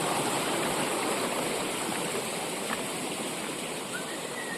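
A forest stream in the Bhimashankar jungle runs low after the water has receded, giving a dense, continuous rushing wash heard up close and without a break.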